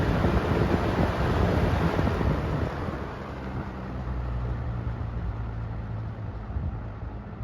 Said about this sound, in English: I gotta turn it to high just to make sure.